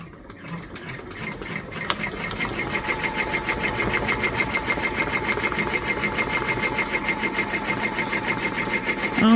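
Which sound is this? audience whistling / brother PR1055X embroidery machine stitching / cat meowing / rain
brother PR1055X embroidery machine stitching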